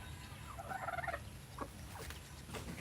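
A brooding hen sitting on its eggs clucks in a short burst of rapid calls, then a few scattered clucks, fairly faint over a steady background hiss.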